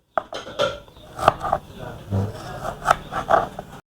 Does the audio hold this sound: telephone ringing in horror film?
no